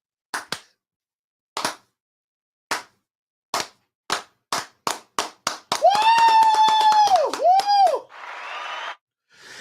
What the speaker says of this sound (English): Oh wait, probably the slow clap